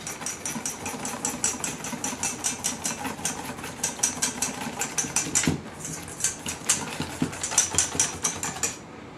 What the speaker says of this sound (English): okay, and then we whisk this up